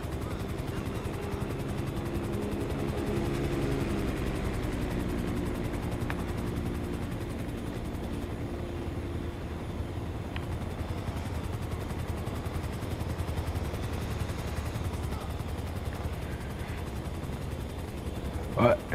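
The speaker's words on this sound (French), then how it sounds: "T'as vu l'avion qui vient de passer là?" An aircraft drones past in a video game with a low, steady rumbling hum that slowly fades, joined by faint scattered machine-gun bursts in the background.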